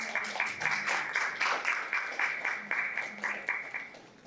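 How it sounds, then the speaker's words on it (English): A crowd claps steadily throughout, a moderate wash of applause with a faint voice underneath. "Let's have a big round of applause for Mr."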